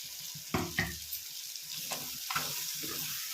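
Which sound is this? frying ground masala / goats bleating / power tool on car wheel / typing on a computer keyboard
frying ground masala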